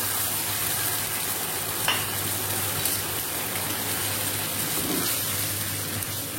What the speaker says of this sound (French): Maintenant, je vais rajouter mon fond de bœuf.